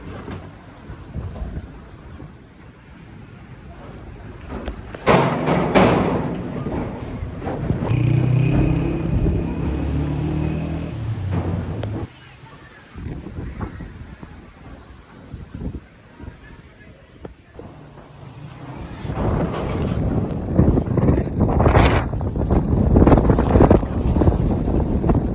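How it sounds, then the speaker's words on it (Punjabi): Strong gusts of wind buffet the microphone in loud, roaring surges as a dust storm sweeps through with rain beginning, the blasts rising and falling over about twenty-five seconds while a person talks intermittently underneath. "ਆ ਦੇਖੋ ਕਿਤਨੀ ਤੇਜ਼ ਹਵਾ ਚੱਲ ਗਈ, ਗੱਟਾ ਮਿੱਟੀ ਕਿਤਨਾ ਜ਼ਿਆਦਾ ਉੱਡਿਆ ਹੋਇਆ।"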